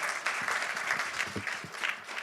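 An audience at a symposium on aging applauds. The clapping is steady and moderately loud and fills the whole stretch, with no cheering.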